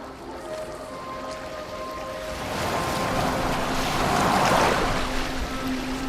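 A boat moves over open water in Assassin's Creed Valhalla, with a continuous wash of waves and hull noise that swells louder midway, alongside faint steady tones, and no voices.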